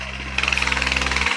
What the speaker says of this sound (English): I apologize a little bit for the motorcycle noise there